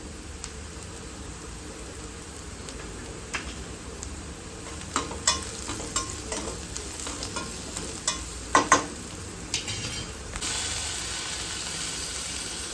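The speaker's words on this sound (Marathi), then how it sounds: "कांदा थोडाफार लालसर झालेला आहे आणि हिरव्या मिरच्या पण छान परतल्या गेलेल्या आहेत तेलावरती" Sliced onion and green chillies fry in oil in a pan, a continuous close sizzle broken by repeated stirring scrapes and clinks as turmeric is mixed in, with no voices.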